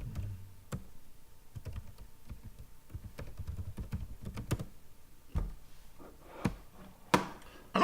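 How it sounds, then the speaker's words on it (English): Typing on a computer keyboard, close and fairly quiet, with irregular runs of clicking keystrokes and a few louder key strikes near the end, no talking. "So let me type in Marilyn."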